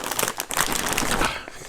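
Bag of protein chicken chips crinkled and crumpled in the hands, a close, continuous crackling of stiff packaging with no talk.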